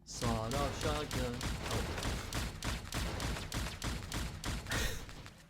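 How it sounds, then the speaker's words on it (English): Shotgun blasts from a sawed-off shotgun in the arcade shooter Berzerk Recharged, a rapid string of loud, punchy shots over busy game music and effects. "Sawed-off shotgun."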